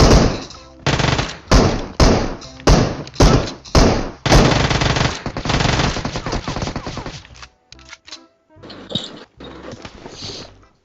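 Gunfire in the mobile battle-royale game PUBG Mobile: loud, close bursts of automatic fire in repeated sharp volleys, followed by a longer sustained stream and scattered quieter shots, with faint game effects between.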